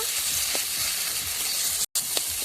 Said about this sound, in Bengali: পেঁয়াজের সাথে আলু সিদ্ধটাকে ভালো করে ভাজা ভাজা করে নেব